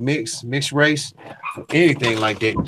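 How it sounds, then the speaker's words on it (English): A dog barks and yips in quick bursts close by, tangled with and partly masked by someone talking over it. "Excuse the dog."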